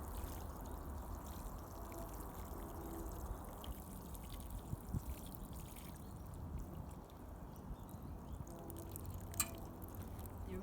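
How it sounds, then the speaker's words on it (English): Water pours steadily from a watering can onto soil in a large seed-sowing container, a soft continuous splashing and trickling that runs throughout, with no one talking. "I'm making sure I get water over all parts of the container."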